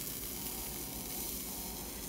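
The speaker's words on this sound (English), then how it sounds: "It's literally just the water boiling." Steady, close sizzling hiss of water boiling off a doll's wet hair under a hair straightener, continuous and even throughout with no talking.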